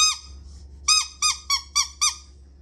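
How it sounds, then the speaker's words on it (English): A dog's squeaky toy squeezed in a home, giving five sharp high-pitched squeaks in a quick irregular series after a faint first squeak, close and clear over a low steady hum, no talking. "See the squeaky toy?"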